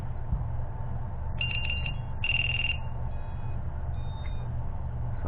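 Buzzer on an FPV quadcopter beeping as its battery is plugged in: a cluster of short high beeps, then one longer tone, with a couple of faint later chirps over a steady low electrical hum.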